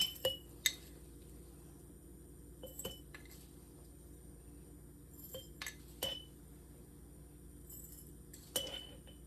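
Teaspoons of pickling spices being spooned into glass jars give off quiet, scattered clinks of metal on glass, a handful of light taps spread over a low, steady background.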